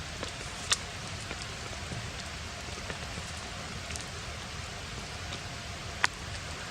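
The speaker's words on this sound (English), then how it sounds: "It's not raining a whole lot, but it's mostly just drips from the trees, I think." Light rain patters steadily on leaves and ground in winter woods, mostly drips falling from the trees, with a few louder individual drips landing close by.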